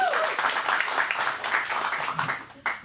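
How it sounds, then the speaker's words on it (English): An audience at an acting studio script showcase applauding a comedy sketch, a short burst of steady clapping at moderate volume that tapers off, with a voice briefly cutting in at the end. "Big round of applause once again for our sketch,"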